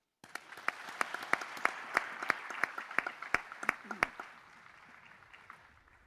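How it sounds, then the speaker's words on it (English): Conference attendees at a business congress applaud, with sharp distinct claps over a softer wash of hands. The applause peaks early and fades gradually. "they really deserve a big, big applause"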